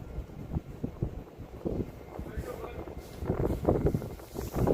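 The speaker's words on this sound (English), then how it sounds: "Yes, it is definitely windy." Gusty wind buffets and roars against the microphone in uneven bursts, growing stronger toward the end.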